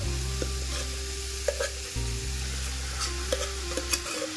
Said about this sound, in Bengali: এবার আমি অ্যাড করব আগে থেকে সেদ্ধ করে